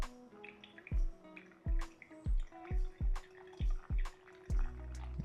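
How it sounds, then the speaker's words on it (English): Water poured from a kettle onto Ethiopian natural coffee grounds in a Hario V60 dripper, a series of about eight short, close, even splashing gushes in steady rhythm, with a longer run of pouring at the end and no talk. "now we're gonna do our first pour. 60 grams of water."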